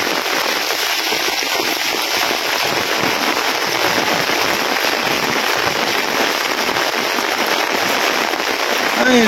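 Heavy rain pours over open farm fields where rice seedlings are being planted, a loud, unbroken hiss of downpour.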